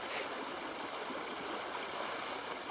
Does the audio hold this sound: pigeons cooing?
no